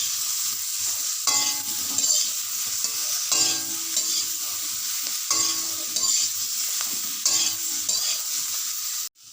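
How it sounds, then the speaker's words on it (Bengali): Green beans and potato pieces stir-fry with salt and turmeric in a hot pan, a steady close sizzle broken by several loud scraping stirs of a spatula, with no talking. "নুন হলুদ দেওয়ার পরে এটাকে বেশ খানিকক্ষণ নাড়াচাড়া করতে হবে।"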